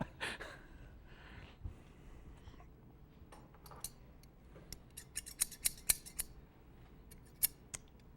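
Scissors snip repeatedly in a classroom, a quiet series of sharp, crisp cuts that grows denser toward the end, close and alone with no talk.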